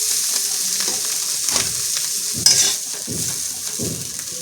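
Bitter gourd frying in oil in a pan sizzles steadily and loudly, with a few stirring scrapes and a sharp utensil clink midway, no talking.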